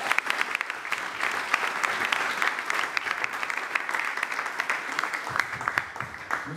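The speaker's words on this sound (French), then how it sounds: "Est-ce qu'on peut acclamer très fort pour lui?" Loud, sustained applause and cheering from an audience at a church installation ceremony for a national coordinator in Gabon, with dense clapping running steadily from start to finish.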